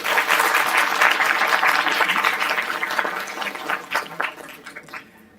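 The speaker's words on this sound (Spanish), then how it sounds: "Un aplauso para él, por favor." An audience at a panel discussion on adolescence applauds a psychology professor being introduced. Full, dense clapping from a crowd starts strong, then thins into scattered individual claps before dying away.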